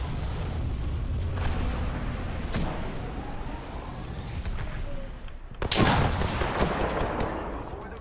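Gunfire in an online battle royale shooter game, with distant rattling shots and one sharp nearby burst over steady background noise, and faint voices underneath.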